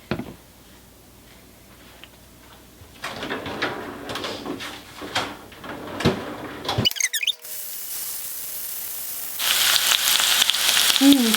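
Chicken skewers fry in oil in a pan with a quiet sizzle and scattered pops and crackles, rising to a louder, steady hiss toward the end, heard close with no talking.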